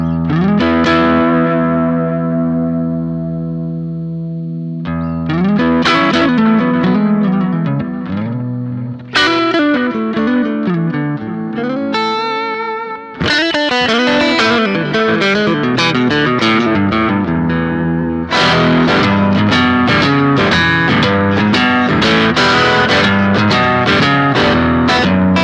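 A Strandberg Boden electric guitar with coil tap plays ringing chords and single notes with a bright, slightly driven tone, strummed in bursts with pauses between phrases.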